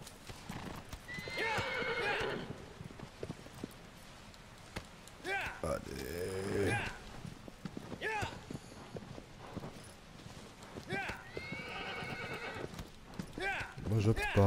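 The horse in Shadow of the Colossus on PS4 clops along at a steady pace and whinnies loudly twice, near and clear, as someone talks over it.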